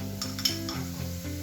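Garlic hits a pan of hot oil and butter with a steady close sizzle, joined by a few light metallic scrapes of stirring over a low humming tone.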